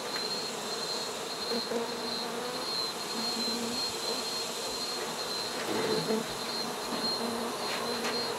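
Honey bees buzz steadily during an exposed hive removal in San Benito, Texas. A dense, continuous outdoor swarm drone fills the scene at moderate distance, with a few individual bees passing closer.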